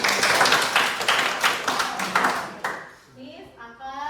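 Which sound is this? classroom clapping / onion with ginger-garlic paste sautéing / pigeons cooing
classroom clapping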